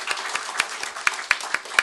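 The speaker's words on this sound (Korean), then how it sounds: "우리 하나님께 영광의 박수를 돌려드립니다." A church congregation claps during a spring revival service, giving a few scattered, distinct claps that land irregularly in a quiet hall.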